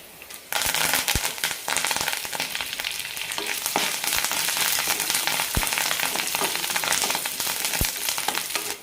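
Urad dal, chana dal and curry leaves hit hot oil that already holds spluttered mustard seeds, for a Bombay chutney. A loud, dense crackling sizzle starts abruptly and runs on steadily with sharp pops scattered through it.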